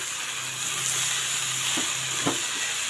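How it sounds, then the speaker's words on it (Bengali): Vegetables frying in a pan with salt and chilli powder give a steady bright sizzle, with a couple of soft stirring scrapes near the end. "সবজিটা ভাজা হয়ে এসছে"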